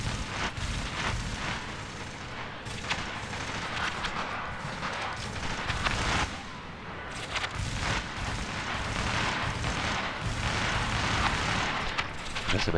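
Rifle gunfire in Tom Clancy's The Division, set in New York: a continuous, loud barrage of shots and booming impacts that blur into a dense, unbroken roar of combat, with no clear pauses.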